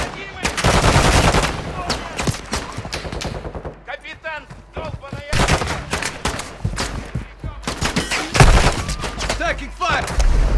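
Rapid bursts of automatic gunfire and scattered shots in a DMZ Warzone firefight in Vondel, loud and near with brief pauses between volleys, a voice calling out among the shooting.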